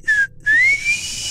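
A person whistling close by: a short rising note, a brief gap, then a longer sliding whistle that rises and holds, loud and clear.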